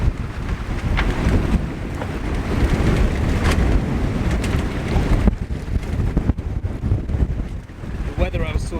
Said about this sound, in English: the winds just started gusting to about 30 knots